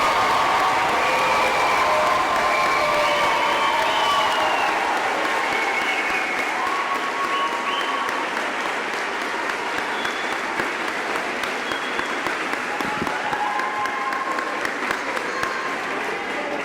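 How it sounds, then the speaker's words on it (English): Sustained applause and cheering from a graduation crowd for the Norristown Area High School class of 2021, a broad, dense wash of clapping with scattered whoops that holds steady throughout. "a round of applause for the Norristown Area High School class of"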